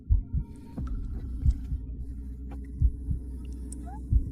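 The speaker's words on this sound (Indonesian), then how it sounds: "Detak jantung mereka berdua melonjak." Heartbeat sound effect in a drama scene: a loud, low double thump repeats at a steady pace, about five beats over a low background hum, with no talking.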